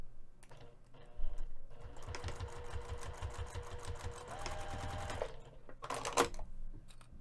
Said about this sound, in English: We're going to be stitching this in place using an 1/8 of an inch seam allowance.